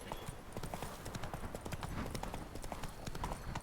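Roach the horse galloping in The Witcher 3, a fast, steady clip-clop of hooves close up, with a faint voice speaking over it.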